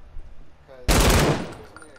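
A single sharp burst of Fortnite video game gunfire, loud and close, cutting in abruptly and decaying over about a second after a quiet stretch.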